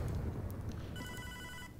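Telephone ringing in the video game Hotline Miami 2: Wrong Number. A steady, electronic, repeating ring starts partway through and sounds over a low, rumbling game backdrop.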